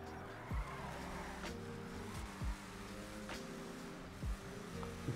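A custom BF Weevil car in a video game drives along a road, its engine a steady droning hum with harmonic layers, broken by a few brief louder bursts, heard alone without talk.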